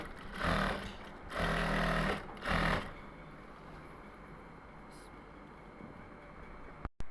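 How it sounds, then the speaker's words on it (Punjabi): Sewing machine running in three short bursts while stitching a fabric mattress cover with a zip, close and fairly loud, then a quieter steady hum as someone talks. "ਇਸ ਤਰ੍ਹਾਂ ਆਪਾਂ ਸਲਾਈ ਲਾ ਲੈਣੀ ਹੈ ਮੈਂ ਕਵਰ ਸਿਉਣ ਲੱਗੀ ਸੀ"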